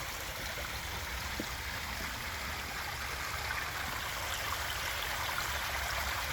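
A backyard pondless waterfall fed by a pump pours steadily in a continuous, even rush and splash of water. It is close and moderately loud, with no voices.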